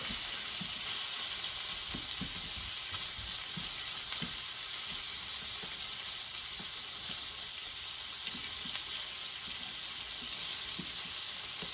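Seafood searing in melted butter in a dedicated oyakodon pan, a steady close sizzle with scattered soft pops and crackles running the whole time, no voices.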